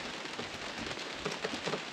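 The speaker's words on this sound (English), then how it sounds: "It's raining again" Rain falls steadily outdoors on rocky ground, a dense, even hiss with faint patter for about two seconds, with no one talking.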